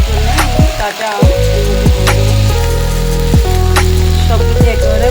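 Tomatoes roasting in a pan for a tomato chutney give a steady sizzle with intermittent sharp crackles and pops, heard close over a constant tonal hum.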